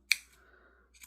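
Two sharp snips of scissors cutting through a cardboard toilet paper roll for a small yarn hat craft, close and clear, separated by about a second of near silence.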